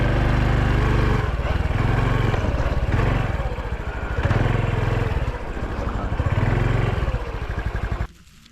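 A Honda Super Cub 110 motorcycle engine runs close by on a foggy hillside road with a loud, steady, throbbing putter that shifts slightly in pitch, then cuts off abruptly just before the end.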